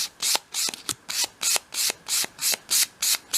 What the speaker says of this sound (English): just sweep a piece of 500 grade sandpaper along at a 45-degree angle